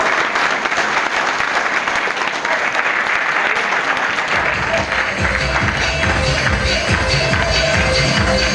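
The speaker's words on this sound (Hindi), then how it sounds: "ताली। वाह वाह।" An audience at a motivational stage event in Delhi bursts into sustained applause, many hands clapping together in a dense, loud roar that swells and grows fuller midway.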